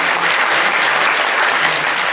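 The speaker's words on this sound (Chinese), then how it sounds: "掌声谢谢他" Dense, even applause from guests at a banquet celebrating a bishop's tenth anniversary in office, a short continuous burst of many hands clapping close by.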